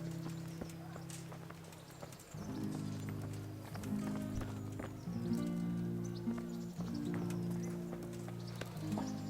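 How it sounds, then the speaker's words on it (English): Steady hoofbeats of horses clip-clopping along at a brisk pace in Kingdom Come: Deliverance, close by, with a low droning hum underneath and an occasional faint whinny. "Get your horses mounted up and let's ride out."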